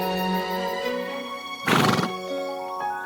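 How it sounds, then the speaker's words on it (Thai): A sick horse in a stall lets out one loud, shaky whinny in the middle, with a softer snort after it, over a quiet backdrop of sustained music tones. "ซาร่า เอาผ้าห่มผืนโปรดมาห่มให้เดซี่ และอยู่ในคอกทั้งคืนกล่อมม้าที่ป่วยและน่าสงสาร"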